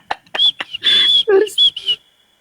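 A voice imitates whistling with a string of short, high, pure whistle-like tones broken by brief vocal bursts, close and loud.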